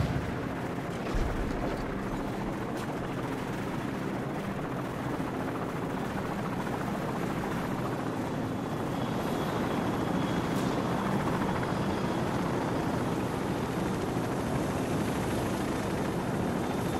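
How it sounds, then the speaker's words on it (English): A continuous heavy rotor roar drones throughout, a dense, loud helicopter thrum in Call of Duty 4: Modern Warfare that swells slightly as it passes overhead. "friendly helicopters entering the area"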